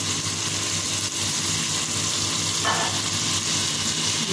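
Bagoong shrimp paste hisses and sizzles steadily in a hot pan while cooking pinakbet, a constant close frying sound with a brief brighter burst partway through; no talking.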